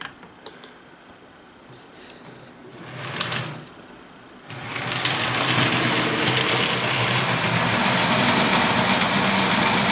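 An HO scale model locomotive works a three-car train up a grade on a home layout, a soft mechanical whir that builds into a steady, fairly loud running hum with light ticking after a quieter start.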